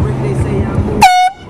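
A single loud air horn blast erupts after about a second of background chatter and street noise, blaring briefly and then cutting off.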